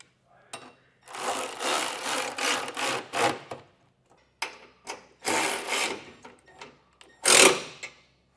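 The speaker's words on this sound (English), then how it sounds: "We're going to snug that down and then come back and torque everything." Bolts on a running board for a 2023 Ram being snugged down with a wrench or driver, heard as bursts of rasping, ratcheting noise separated by short pauses, with one sharp louder burst near the end.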